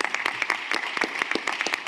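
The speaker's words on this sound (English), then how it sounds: "Applause." Brief burst of audience applause following a presentation at a climate-friendly food systems side event; crisp, fairly close claps at an even, moderate density for under two seconds.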